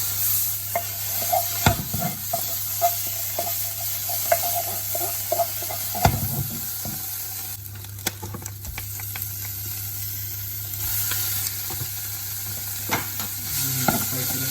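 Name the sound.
onion, garlic and tomato paste sizzling and stirred in pan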